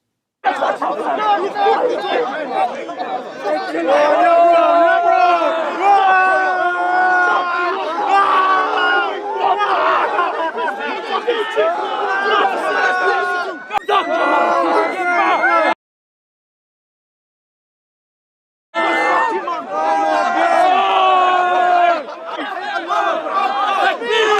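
A crowd at Speakers' Corner clashing with police: dense, loud shouting and chatter from many voices, continuous and agitated, breaking off into silence for a few seconds before the uproar resumes.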